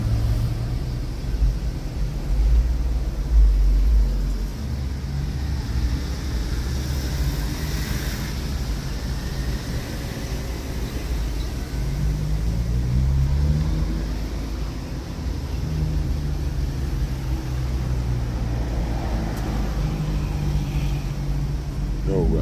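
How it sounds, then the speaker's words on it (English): Traffic in Waikiki, Hawaii, rumbles steadily for the whole stretch: low engine drone from nearby cars, with occasional louder passing swells and a faint higher hiss, no voices. "just sitting in traffic"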